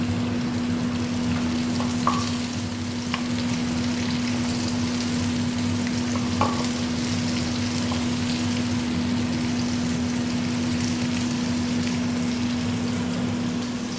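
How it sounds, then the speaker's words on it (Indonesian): Chili for sambal spits and crackles steadily in hot oil in a pan, a dense, even sizzle that runs unbroken throughout, with a low electrical hum underneath and a few faint clinks. "Nah, ini udah panas ya, teman-teman. Kita goreng buat sambelnya Mas J dulu."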